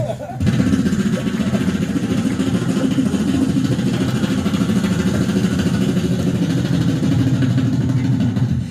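A person imitates a helicopter with the voice, a continuous buzzing, chopping drone held steady for several seconds, loud and close.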